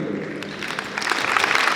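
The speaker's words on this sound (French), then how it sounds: "Mesdames et messieurs, sous vos applaudissements, l'international sénégalais." An audience at a student talent show applauds, a loud, close, continuous wash of clapping that swells slightly toward the end.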